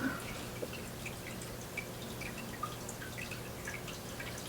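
Light tinkling water drips from a home fish tank, scattered irregular plinks over a steady low hum, fairly faint and close, no talking.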